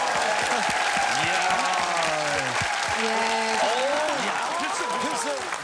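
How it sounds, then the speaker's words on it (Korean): Continuous, dense applause from an audience at a navy operations command TV show, loud and unbroken throughout, with voices speaking over it. "박수"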